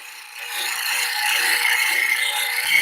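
A cabbing machine's polishing wheel grinds against rock, a continuous, fairly loud high-pitched whirring rasp with no talking.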